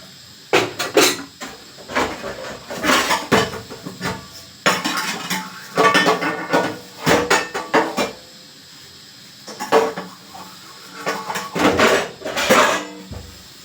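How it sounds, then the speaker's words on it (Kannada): Pots and dishes are washed by hand with the tap off, producing repeated clattering bursts of metal vessels knocking and scraping together in uneven clusters, close and fairly loud, with short pauses between handling. "ಈಗ ಇಲ್ಲಿ ಫ್ರೆಂಡ್ಸ್ ಪಾತ್ರೆನ ತೊಳಿತಾ ಇದ್ದೀನಿ"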